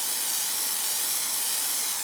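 A dry shampoo aerosol can sprays in a continuous, steady hiss that runs unbroken for about two seconds, fairly close and moderately loud, with no voices.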